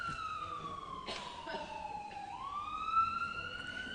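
An emergency vehicle siren passes outside, heard somewhat faintly from indoors as a rising and falling wail that sweeps down and then climbs again over a quiet background.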